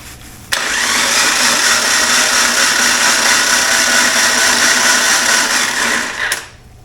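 The 2.5L engine of a Jeep Wrangler YJ is cranked over by the starter, giving a loud, continuous whirring spin that lasts about six seconds before cutting off, with no other sound in the clip.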